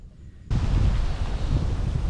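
Strong wind gusts in the open over a pond while fishing, a sudden roaring blast of broadband noise buffeting the microphone after a quiet half-second, then sustained loud rushing.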